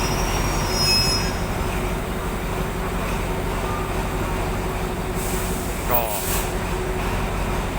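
Train 352 pulling into Taling Chan Junction station in Thailand, a loud, continuous rumble of railcars with sustained wheel squeal and brake hiss, heard up close from on board.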